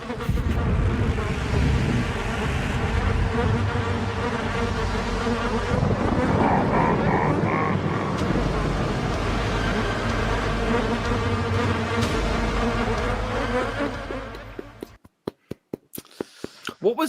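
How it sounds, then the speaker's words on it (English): Dense, steady buzzing of many bees drones loudly for about fifteen seconds, then breaks off into a few sharp clicks. "What was the honeybee thing at the end? Is there lots of buzzing bees?"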